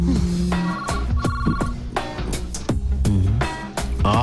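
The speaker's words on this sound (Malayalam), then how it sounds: "phone anti phone" A telephone ringing loudly and close by, a repeating electronic ring pattern in regular bursts with no talking over it.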